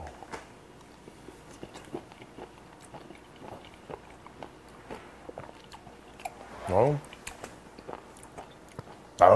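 Soft, close bites and chewing on grilled mackerel and small squid at a Busan Haeundae street food tent, a scatter of quiet crunchy clicks with a brief voice near the end.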